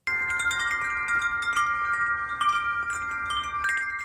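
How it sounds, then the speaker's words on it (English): A wind chime rings softly, its metal tones sustained and shimmering, with occasional light strikes adding fresh bright tinkles. "If you guessed a wind chime, you are spot on."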